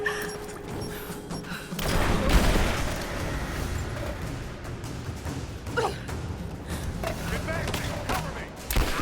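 In Rise of the Tomb Raider, a grenade blast and bursts of gunfire sound from mid-distance in a busy, cluttered fight, with a stronger thump early on followed by scattered shots and crashes. Voices call out over the action.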